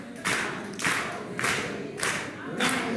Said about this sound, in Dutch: allemaal handjes klappen, allemaal